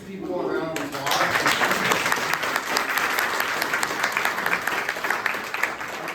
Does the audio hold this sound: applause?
yes